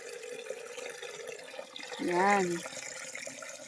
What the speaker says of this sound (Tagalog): So ito po ay may source na po ng tubig pala.